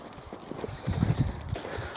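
Horse hooves clip-clop at a walk on the way to the barn, driven without a lead rope, with a burst of closer, louder steps near the middle and lighter footfalls before and after.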